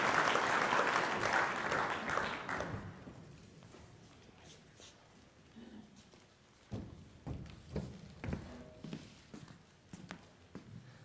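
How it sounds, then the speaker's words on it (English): Audience applause at a natural resource summit about the Rim Fire, a dense burst of clapping in the opening seconds that quickly fades, followed by scattered thumps and footsteps in a quieter room. "let's give them a round of applause"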